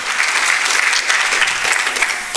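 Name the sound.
church congregation applauding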